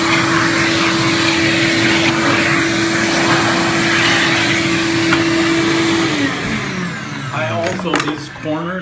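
A vacuum cleaner runs loudly and close, sucking up debris from a joint being prepped before caulking, with a steady motor whine that shifts and drops in pitch near the end as the nozzle moves.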